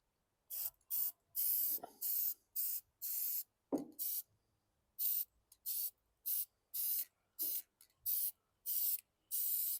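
Short hissing bursts of a Walmart gloss spray can coating a lawn mower, about a dozen quick sprays in a steady rhythm with brief pauses between, close and clear with no talking.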